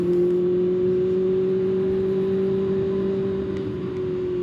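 A Kawasaki ZX-6R sport motorcycle in third gear at about 50 gives a steady engine drone with a sustained whining tone, holding a constant pitch as it cruises, loud and close with wind noise underneath.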